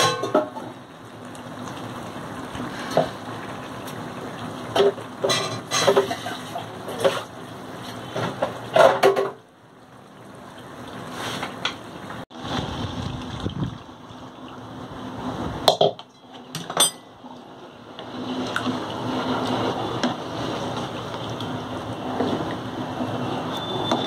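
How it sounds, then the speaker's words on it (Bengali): A cooking pot with poppy seed paste stuck to it is rinsed with water in a home kitchen. Metal clatters and scrapes come close and intermittently, with splashing and handling noises, brief pauses, and the clanking picking up again toward the end. "না, একটু ধুয়ে জল দেবো।"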